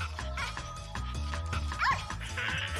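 A neighbour's dog barks in the video game Neighbours Back From Hell, giving a run of quick rhythmic yapping barks under a bouncy game music track, ending in a whimpering yelp.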